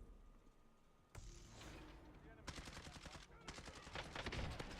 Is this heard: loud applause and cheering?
no